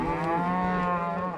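On a wet, cold spring cattle drive at Dryhead Ranch in Montana, a single cow lets out one long, drawn-out moo at moderate distance, clear and sustained with a slight fall in pitch.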